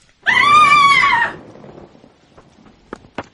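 A woman's high, piercing scream in an audio drama, loud and close for about a second, then fading into low murmuring and a few sharp knocks.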